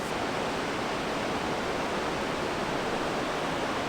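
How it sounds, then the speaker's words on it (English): A waterfall in Baxter State Park, Maine, heard at a brook trout fishing spot, roars as a dense, even wash of white noise that holds constant throughout, with no voices. "Falls in the background, and I love it."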